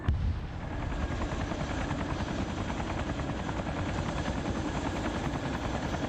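Helicopter in an online PvP military combat game, its steady rotor thump and engine roar sustained loud and close throughout, with no speech.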